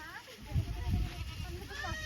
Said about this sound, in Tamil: அந்த குட்டிக்கெல்லாம் குழந்தை கத்துற மாதிரி கத்துது பாருங்க குட்டி